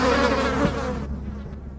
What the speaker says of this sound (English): Jehovah's next plague was a massive swarm of flies